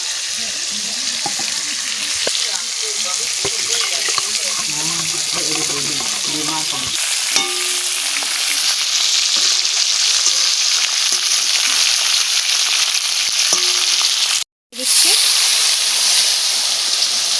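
Spices fry loudly in oil for a bhetki fish curry as water is poured in, giving a steady, close sizzle with stirring; a voice talks over it early, then the hiss continues nearly unbroken apart from a brief cut.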